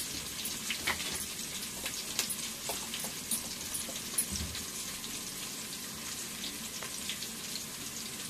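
Onions fry in hot oil in a pan for bagara rice, a close, steady sizzle and crackle with scattered pops and occasional stirring clatter, no voices.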